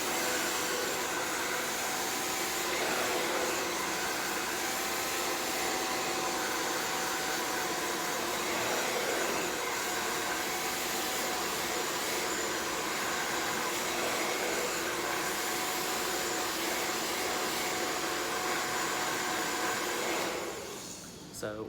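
A hair dryer blows continuously with extra heat during a blowout on very curly hair, a loud, steady, close whoosh that holds unchanged for about twenty seconds before cutting off.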